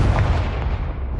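A Confringo explosive spell blast in Hogwarts Legacy, one loud booming burst with a deep rumble that fills the whole moment and fades slowly.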